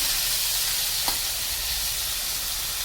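Palak paneer gravy with cumin roasting in a pan, a steady close sizzle with one brief stirring scrape near the middle.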